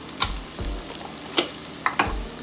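Ground garam masala being stirred into a frying onion mixture in a pan: a few scraping stir strokes over a soft sizzle, close and fairly quiet, with no talking.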